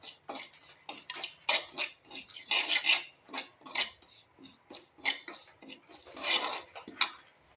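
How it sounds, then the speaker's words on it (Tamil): Scraping and light clinking of a spoon stirring broken wheat roasting in ghee in a pan, in irregular bursts with soft sizzling in between. "இப்போ நம்ம நெய்யில் நல்லா வறுத்து எடுத்துடலாங்க."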